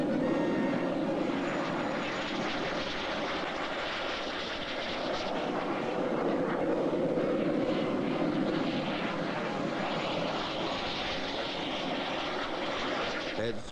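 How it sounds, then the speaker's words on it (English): Fouga Magister jets fly over an Israeli military parade air show in 1968, a sustained distant jet roar that swells slightly, with a voice narrating over it. "Completing the air show are Fuga Magisters in a delightful ballet of color and movement."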